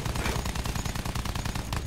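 Rapid automatic gunfire from a Battlefield 1 campaign battle, dense continuous bursts of shots crackling loudly for the whole moment with no pauses.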